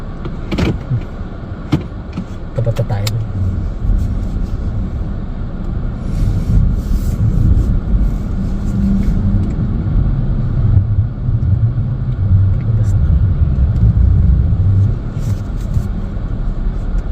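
A car engine idles steadily outdoors on a cold street, a continuous low rumble with a few brief clicks and door-like knocks early on, no talk.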